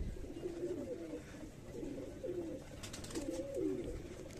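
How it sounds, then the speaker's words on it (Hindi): Soft, low pigeon coos repeat in a few short phrases, fairly close, from a bird perched at an open window, over a quiet background hum. "ये खिड़की खोल दी है मैंने और एक ये आके बैठा है कबूतर"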